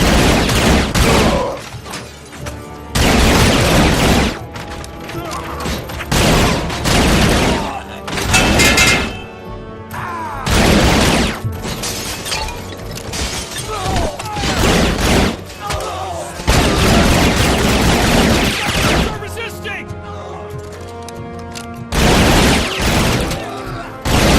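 Loud bursts of gunfire and heavy booming explosions fill a video game trailer, with dense volleys and impacts arriving in waves, and shouted commands heard briefly among the battle noise.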